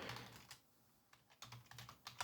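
Quick bursts of typing on a computer keyboard, with close, crisp key clicks that pause briefly in the middle and then resume in an uneven rhythm.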